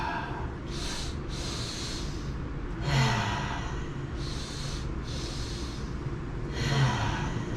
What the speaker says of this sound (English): we're going to try the Huberman breath out, which is that double inhale in